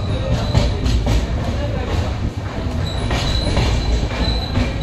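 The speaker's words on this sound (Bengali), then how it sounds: "আমাদের ট্রেন বর্ধমান স্টেশন ছাড়লো" A passenger train pulls out of Barddhaman station and runs steadily, a loud close rumble of wheels and carriages with faint rhythmic rail clatter and occasional squeal, heard from inside the coach.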